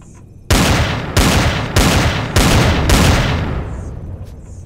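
Five heavy gunshots fire in steady succession in Empyrion, each a loud broadband crack with a long rolling tail that overlaps the next, then fading out.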